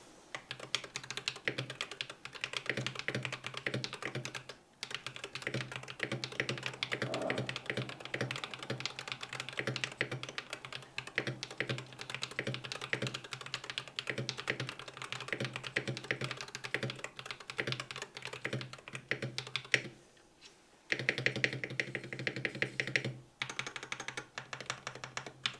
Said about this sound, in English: All of these components come together to create a satisfying typing feel and sound.